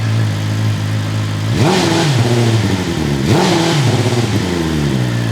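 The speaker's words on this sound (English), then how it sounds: "A BMW S1000RR should not sound like that ever." A 2025 BMW S1000RR motorcycle engine idles roughly, then is revved twice in quick blips, each rising and falling sharply, close and loud with a rough, clattery tone throughout.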